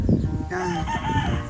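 A rooster crows once, close and fairly loud, in a short burst following a brief rustle.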